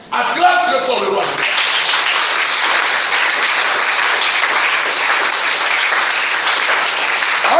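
A church congregation breaks into loud, sustained clapping during a worship service, a brief spoken phrase and music-like tones at the start giving way to dense applause that holds steady to the end.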